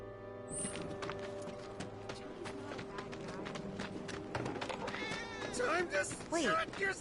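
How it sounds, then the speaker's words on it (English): A cat meows near the player in Final Fantasy VII Remake, a few short mewing calls late in the stretch over steady game music and ambience, with a voice talking throughout. "did you hear that just now? I think one of Betty's cats might be nearby"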